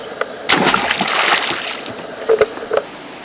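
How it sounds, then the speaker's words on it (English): A released fish of about 18 to 19 inches drops back into lake water beside a boat, making a sharp close splash followed by a few softer sloshes and drips. "Watch the splash."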